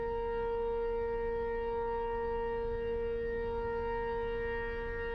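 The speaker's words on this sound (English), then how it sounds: "Actually hear the tornado sirens now." A tornado siren wails continuously during giant tornadoes in South Dakota, a steady sustained tone with strong harmonics holding at an even level throughout, heard from a distance over a low rumble of wind.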